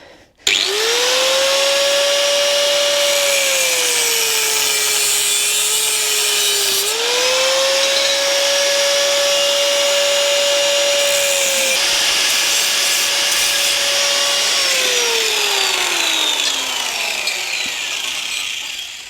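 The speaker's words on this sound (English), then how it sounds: "I'm never going to use it and I want that piece of pipe to weld to the frame. So we'll just cut a section off." A power cutting tool slices through a section of metal pipe from an old motorcycle luggage rack with a loud, continuous high whine whose pitch sags under load and then rises again, close and steady for almost twenty seconds, with no talking.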